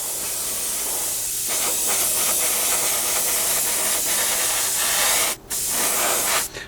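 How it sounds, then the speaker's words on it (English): An airbrush hisses continuously as it lays a misty, even paint coat over a 1/48 scale Messerschmitt Bf 109 model, a steady close spray with a couple of brief breaks near the end. "we can start putting on a nice misty even coat. Just all over the model."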